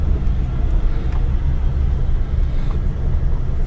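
A car's engine accelerates gently during a driving lesson, heard as a low, steady interior rumble and road drone, fairly loud and continuous with no voices.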